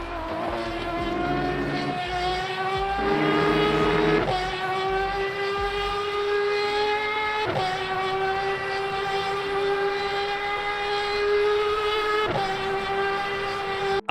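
Aston Martin Valkyrie hypercar engine roaring at high revs in the racing sim Le Mans Ultimate, loud and close, climbing through gears with sharp drops at each upshift.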